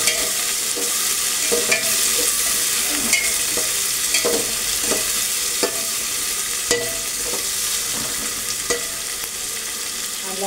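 Chopped tomato is sautéed in a pan, a constant sizzle with repeated scraping strokes of the spatula at an uneven rhythm, close and clear throughout, with no talk.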